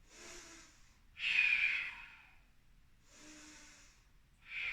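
Slow, deliberate breaths during a power yoga pose: long audible inhales and forceful exhales through the nose alternate in an even rhythm, close and fairly quiet, with no talking.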